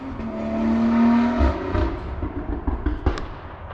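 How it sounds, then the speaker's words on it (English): A Lamborghini passes by outdoors with a loud engine roar that swells and fades, followed by sharp crackling pops. "That was a Lambo."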